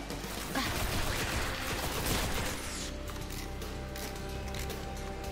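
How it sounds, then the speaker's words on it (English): Gunfire cracks against aliens in the Destiny beta, a dense burst of rapid shots up close that stops abruptly and gives way to a quieter mechanical hum. "So we're just gonna shoot these aliens in the face."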